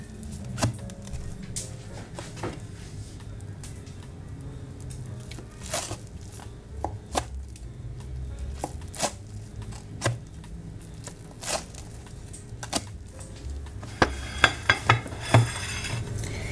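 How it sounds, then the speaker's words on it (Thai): Knife chopping a cooked okonomiyaki into serving pieces, a series of sharp irregular taps against a board or pan with quiet pauses, building to a quick cluster of cuts near the end, with no talking. "หั่นทำเหมาะสมให้ทานง่ายขึ้นครับ"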